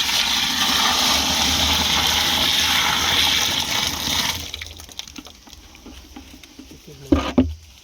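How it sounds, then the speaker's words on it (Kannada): Ten liters of cow urine pour steadily into a container for jeevamrutha preparation, a loud continuous splashing patter that cuts off after about four seconds, followed by quieter trickles, drips and a couple of sharp knocks. "ಹತ್ತು ಲೀಟರ್ ಗೋಮೂತ್ರವನ್ನು ಇದರಲ್ಲಿ ಹಾಕ್ತಿದ್ದೀನಿ."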